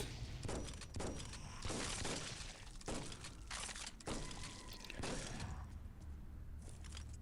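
Repeated loud shotgun blasts from the zombie shooter game Zombeast, roughly one per second, each a sharp crack trailing off over steady background noise.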